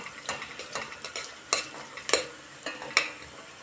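Gentle sizzling of onion and tomato paste frying in a pot, with a spoon scraping and stirring, sharp clinks at intervals, close by and fairly quiet.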